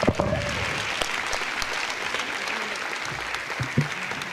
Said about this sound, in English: Let's give a huge round of applause to these amazing leaders.